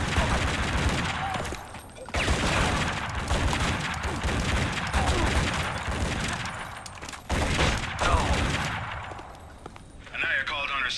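Sustained gunfire in the video game Tomb Raider: Legend, dense rapid bursts of shots with brief pauses, loud and close, layered with game sound and voices talking.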